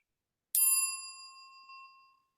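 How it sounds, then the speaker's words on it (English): A bright metallic notification bell rings once, striking sharply and then ringing on with a shimmering decay that fades out over about two seconds, clean and alone with no voices. "click the notification bell"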